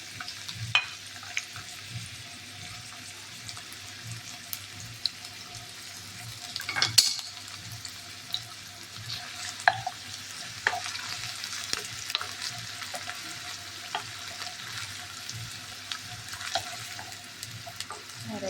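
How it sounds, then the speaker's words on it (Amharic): Chopped onions fry in hot oil in a pan for Ethiopian shiro, a steady close sizzle with occasional stirring scrapes and a louder clatter partway through, no talking. "ሽንኩርት ያዘጋጀሁት ጨምራለሁ"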